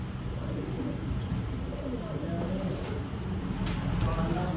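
Sialkoti Nildumba pigeon pair cooing among other birds, a steady low murmur of coos under continuous background noise and faint talk.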